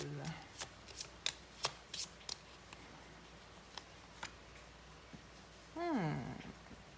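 Divination cards are shuffled close up in a series of quick, crisp riffles and slaps, then quieter handling, with a short voiced sound near the end.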